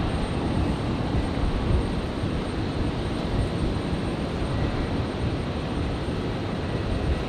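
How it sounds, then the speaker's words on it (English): An Alliance Fokker 70 airliner passes over a hangar at Brisbane airport, a broad, steady engine roar filling the air at constant loudness throughout. "Alliance Fokker 70 with the call sign over the hangar"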